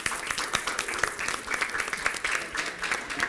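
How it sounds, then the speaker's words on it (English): An audience at a Springboard celebration gives a lively round of applause, a dense, busy patter of many hands clapping at moderate loudness, with no speech over it. "All right, round of applause."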